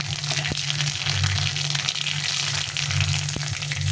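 Dried chillies, a bay leaf and black mustard seeds sizzle in hot oil for a tempering for a mango dal, with a steady, close frying hiss and a couple of faint pops.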